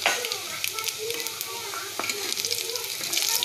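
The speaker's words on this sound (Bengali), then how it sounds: "এখন দিয়ে দিচ্ছি এতে 5 ফোড়ন" Garlic and five-spice tempering sizzling hard in hot oil while being stirred, a dense, continuous crackle that stays loud and close throughout.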